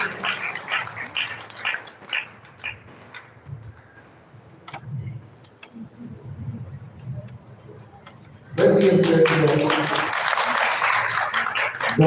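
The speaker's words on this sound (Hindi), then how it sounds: "जोरदार तालियां" Loud, dense applause from the audience at a Shrimad Bhagavat Katha religious gathering in a village bursts in abruptly near the end and continues steadily, following earlier speech and quieter murmuring.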